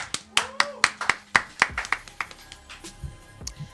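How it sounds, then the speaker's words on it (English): Audience clapping at an event, a series of sharp, distinct hand claps from a small group, close and crisp at first, then thinning into softer, scattered claps that fade out. "Clap it up, everybody."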